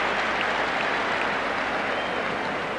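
A football stadium crowd at a 1986 World Cup qualifier between Ireland and the Soviet Union applauds Michael Walsh as he is substituted, a broad, steady roar of clapping that fills the whole stretch without a break.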